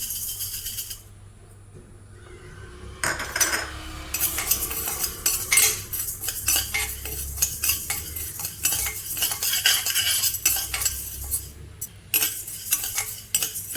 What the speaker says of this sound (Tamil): பாருங்க, சிறுபருப்பும் நல்லா வறுப்பட்டுடுச்சு.